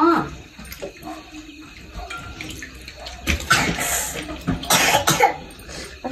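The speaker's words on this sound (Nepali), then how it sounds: "अब साथीलाई खोकी छ कि के हो" A child's friend coughs several times close by, with running water splashing in the background and a few faint voices in the gaps.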